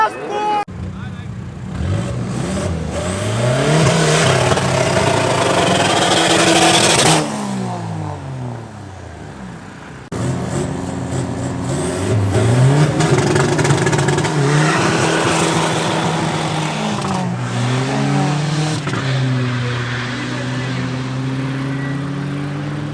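Cupra car racing down a drag strip at Midvaal Raceway in a drag racing championship, loud engine roar rising through hard gear-change revs, with a second run following after a short cut and a crowd or announcer voices mixed in.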